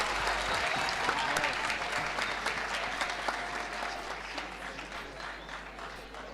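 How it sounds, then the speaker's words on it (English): Audience at a national ICT summit gives a sustained round of applause, dense clapping that swells at first and then gradually thins and fades, heard from within the hall. "Can we give them a round of applause,"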